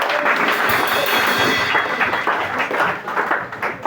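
A church congregation applauding and cheering, a dense continuous wash of clapping and crowd noise filling the whole moment at fairly loud level, with no distinct voice rising above it.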